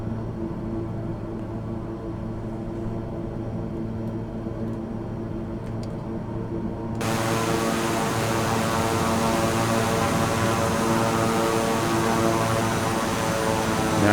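Piaggio P180 Avanti II twin turboprop engines held at about 30% throttle in Microsoft Flight Simulator, a steady droning hum with tonal propeller harmonics that swells brighter and louder partway through, no talking.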